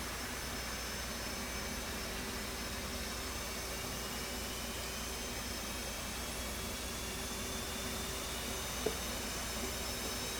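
Steady, loud F/A-18C jet engine starting in a flight simulator game, roar with a whining hiss and faint tones, constant throughout with no change in level and no talking.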